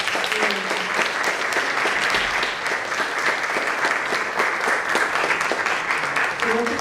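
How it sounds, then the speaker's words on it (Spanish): Applause from an audience at a research conference session, with many hands clapping in a continuous, even wash of sound that stays loud and steady for nearly seven seconds. "pedirles un aplauso para ellos"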